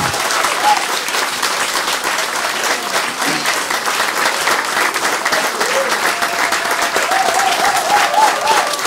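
A church congregation bursts into sustained, dense applause and cheering that holds steady and loud throughout, with voices mixed into the crowd noise.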